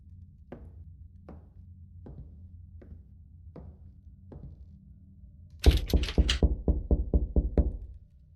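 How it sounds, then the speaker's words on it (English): A door or metal gate in the video game Charon's Staircase gives about six evenly spaced soft knocks, then a louder burst of rapid rattling metallic knocks that fades away. "Was that the door making that noise?"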